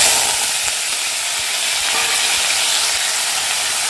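Cubed potatoes hit hot oil tempered with nigella seeds for aloo posto, setting off a loud, dense, continuous sizzle close up, with faint stirring knocks underneath.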